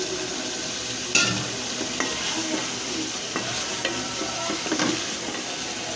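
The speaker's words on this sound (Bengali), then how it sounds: "আলু ঘাটি" Potatoes stirred into eggs frying in a pan with chopped tomato, a steady close sizzle under repeated scraping strokes of a spatula every second or so, with no voices.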